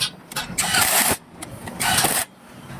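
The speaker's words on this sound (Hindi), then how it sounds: "मशीन से मैंने एक एक करके नहीं सभी बोल्टों को कसा।" Power bolt-tightening machine driving down an engine's head bolts, two loud bursts of about half a second each separated by a brief quieter gap, close and with no talk over it.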